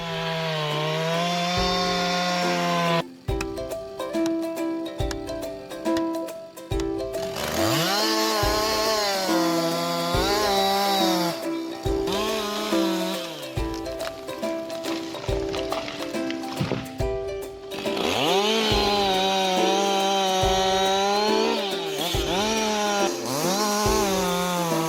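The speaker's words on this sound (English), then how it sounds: "The machine runs in a continuous rotary motion, slicing massive logs into precise, clean segments." A chainsaw with a 90 cc engine cuts through large logs, its loud engine revving up and bogging down repeatedly, falling briefly quieter between bursts of cutting, with no one talking.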